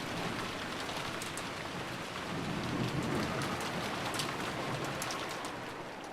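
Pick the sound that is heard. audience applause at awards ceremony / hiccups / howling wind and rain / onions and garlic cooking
howling wind and rain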